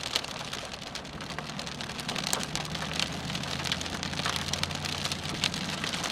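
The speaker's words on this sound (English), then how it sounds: "we're completely in the rain now" Heavy rain from a severe storm in western Oklahoma, a dense steady hiss of drops drumming on a surface with scattered sharper patters, fairly quiet overall and continuous without voices.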